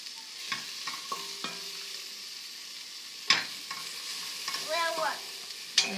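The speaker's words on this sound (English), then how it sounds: "You want to give it a stir?" A spoon stirs chicken curry in a pot with a soft sizzle underneath. Sharp clinks and scrapes against the pot come at irregular intervals and grow busier near the end.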